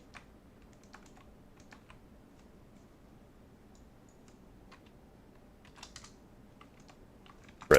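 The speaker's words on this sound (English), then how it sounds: "You could just type an asterisk" Light keystrokes on a computer keyboard, sparse and faint clicks scattered over several seconds with a brief louder clatter at the end, no talking.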